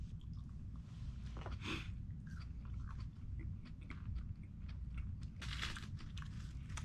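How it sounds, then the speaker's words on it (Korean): Someone bites and chews a deluxe burger up close, with soft, quiet crunching and mouth sounds repeating throughout and no talking. "딜럭스 버거를 한번 먹어보겠습니다"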